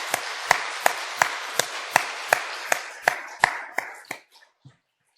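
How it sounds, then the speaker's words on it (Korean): A church congregation at Sunday worship claps in a steady, even rhythm, about a dozen sharp, close claps that slow and trail off into a few scattered last ones before silence. "우리 하나님께 영광의 박수 올려드리겠습니다"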